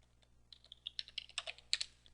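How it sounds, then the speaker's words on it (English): Password typed on a computer keyboard, about a dozen quick, light key clicks in an uneven rhythm, close and fairly quiet, with no talk. "Hit enter, type in your password,"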